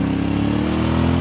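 Motorcycle exhaust recorded by a wireless lapel mic clipped to the back of the rider's shirt, giving a steady, loud engine drone with a constant low rumble throughout and no speech.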